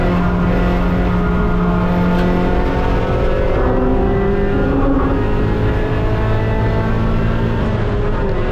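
Race car engine roaring continuously at close range during a race at Mid-Ohio, holding steady throttle with shifting pitch and no break for the full stretch.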